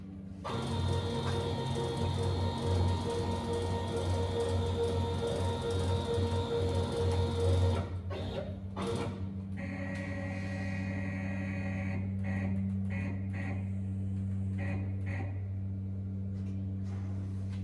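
CNC cutting machine routing 6 mm MDF in a single pass, a steady mechanical hum with tonal whine that drops in pitch partway through, continuing as a constant drone with intermittent clicks.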